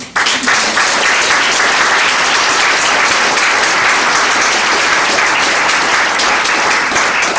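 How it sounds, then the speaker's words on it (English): An audience at a 37th District candidate debate gives a sustained, loud round of applause for the two candidates, steady dense clapping filling the room throughout. "Please give them a round of applause."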